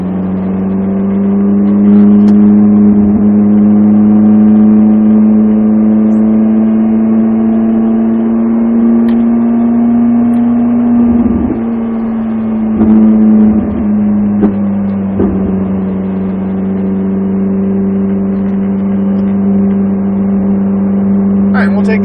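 A Ferrari 458 on a racetrack drones loudly and close, its engine note holding a steady pitch and rising slightly before easing off, continuous throughout with brief mechanical knocks.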